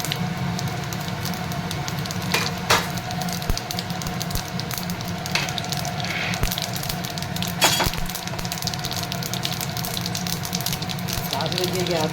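Mustard seeds and cumin sizzle steadily in hot oil while cooking moringa leaf palya, a continuous crackling hiss with occasional sharper pops running throughout.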